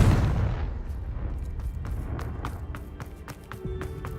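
Hogwarts Legacy Confringo fire spell blast: a heavy booming burst up front that decays into a rumbling tail, followed by scattered sharp clicks and crackles.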